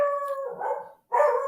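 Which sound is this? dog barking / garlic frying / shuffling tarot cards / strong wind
dog barking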